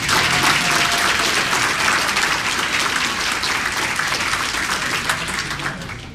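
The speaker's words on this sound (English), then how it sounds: "let's have a round of applause for the 5-year people" A crowd at a Washington County, Maryland employee recognition breakfast gives loud, dense applause for five-year service honorees, steady at first and easing slightly toward the end.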